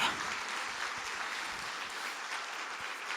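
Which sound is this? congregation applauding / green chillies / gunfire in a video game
congregation applauding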